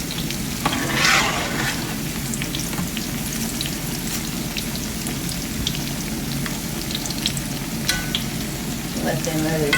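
Crispy squash patties fry in a pan with a steady, close, rain-like sizzle, peppered with small crackles and pops throughout, and a few louder spits now and then.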